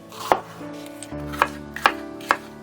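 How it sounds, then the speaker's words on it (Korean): A knife chops through onion into thick slices on a cutting board, four sharp, distinct knocks at uneven intervals, close and clear, with a low tonal hum in the background. "필요한 재료는 양파 두껍게 썰어주시면 좋겠습니다"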